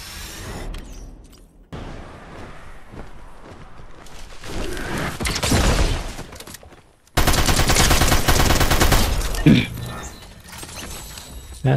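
Automatic and rapid gunfire in Fortnite battle royale combat, in bursts of varying loudness, with a dense, loud stretch of sustained shooting in the second half and game effects around it.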